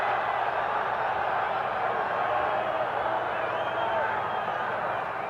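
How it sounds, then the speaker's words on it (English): A dense, roaring football stadium crowd at a 1980 Georgia versus South Carolina college game, a steady wall of massed yelling for defense, loud and continuous from start to finish. "Yelling defense for Georgia."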